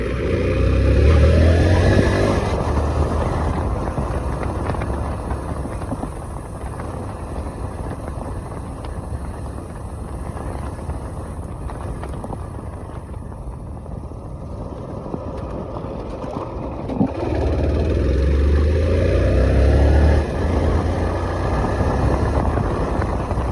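A motorcycle overtakes a car on a road through dense forest, its engine droning steadily and rising into louder revving surges near the start and again toward the end, mixed with heavy wind rush at the rider's microphone.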